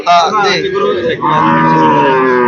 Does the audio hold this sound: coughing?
no